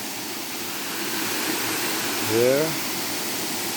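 Blue Basin waterfall in Trinidad: steady, broad rushing water fills the whole clip at a fairly loud level, and a person speaks one brief word over it.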